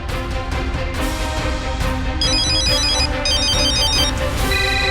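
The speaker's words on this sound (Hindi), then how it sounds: "फोन तो लगा लेकिन वो उठा नहीं रही वो।" A phone ringtone plays loudly and continuously during an unanswered call, a bright repeating electronic melody with pulsing tones over a busy music bed, no one speaking.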